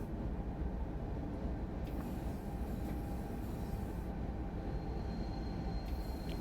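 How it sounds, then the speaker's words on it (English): In Train Sim World 4, a train rumbles along a snowy Salzburg–Rosenheim line as its wheels slip under braking, a steady heavy rolling roar with faint squeals and a few clicks, no talk. "wheel slip when it tried to slow down"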